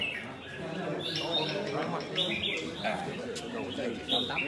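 Birds sing and chirp at a Vietnamese songbird competition, dense overlapping calls and short whistles filling the scene, with speech from the event audible underneath.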